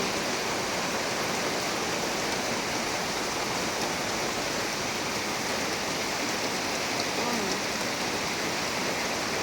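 Heavy rain pours down in a dense, constant roar, loud and unbroken from start to finish with no pauses.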